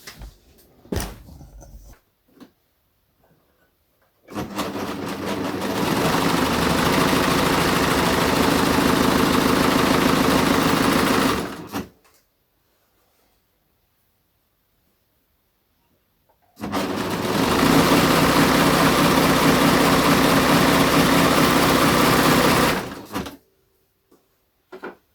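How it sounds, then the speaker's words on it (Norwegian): An overlock serger finishes the seams of a fabric blouse in two long, steady runs of loud, dense mechanical whirring, separated by a few seconds of near silence, with faint handling clicks at the start. "Jeg tar en overlock på dette."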